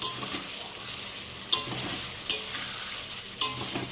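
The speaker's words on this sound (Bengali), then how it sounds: "এই দেখো আলুর সঙ্গে মশলাটা একটু জল দিয়ে কষাই নিলাম" Potatoes and spices cook in a pan with a little water as a spoon stirs them, giving a few sharp scrapes at irregular intervals over a low, steady sizzle, close and fairly loud.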